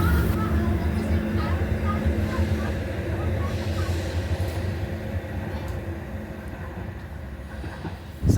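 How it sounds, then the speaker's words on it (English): A train rumbles steadily as it pulls into South Gosforth station, with a rattling, clattering drone and people talking over it. "This train's arriving."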